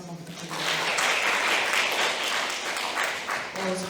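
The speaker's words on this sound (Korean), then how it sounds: "김고은 서울연구원 연구위원님께 큰 박수 다시 한번 부탁드립니다" Steady, fairly faint applause rises from a forum audience after a research presentation on Seoul's bulky and electronic waste, a continuous wash of many hands with a brief voice at either edge.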